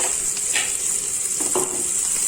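Half an onion frying in about two spoons of oil for a tempering for a Mangalorean shellfish sukha, giving a steady close sizzle with a few soft stirring scrapes and no talk.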